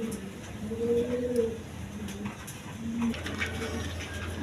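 A pair of house pigeons with undulation-coloured plumage coos in a few low, drawn-out calls at moderate distance, with faint background noise between them.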